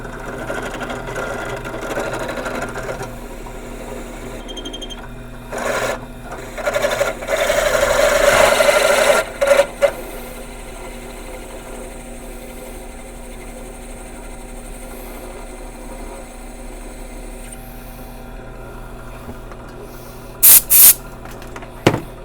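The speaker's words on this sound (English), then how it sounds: "We're going to drill this out." Drill bit with a little oil boring out a .450 Marlin brass case, a steady loud whirring grind for a few seconds, then quieter mechanical hum and a brief sharp burst near the end.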